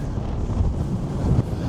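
Strong wind gusts buffet the microphone at midnight near Nordkapp in northern Norway, a loud, steady roar with rising and falling blasts and no talking.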